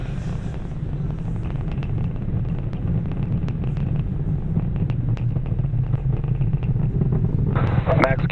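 The SpaceX Falcon Heavy's engines roar during ascent on the EchoStar 24 (Jupiter 3) launch, a heavy continuous low rumble with crackle, steady and loud throughout as a voice talks over it.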